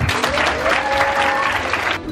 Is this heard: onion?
no